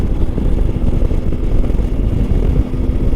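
A CF Moto 450 MT motorcycle engine pulls steadily under acceleration on a test ride, a continuous low droning rumble with wind noise, loud and close, with no talking.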